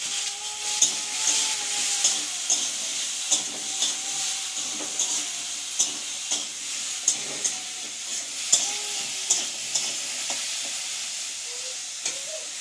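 Vegetables sizzling and frying in a pan with oil, turmeric and salt, a steady hiss broken by regular scraping stirs of a spatula, close and alone without talk.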